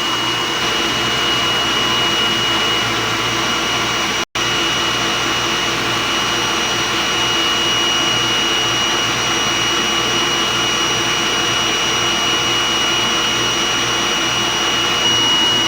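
A DTF printer runs its head-clean cycle as a steady, loud mechanical whirr with a constant hum, broken by one very brief dropout, and no voices.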